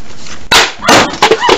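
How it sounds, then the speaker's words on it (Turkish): A small firecracker bomb goes off nearby with a sharp, loud bang, followed by a few more rough cracking bursts in quick succession. "Sanki bomba patladı."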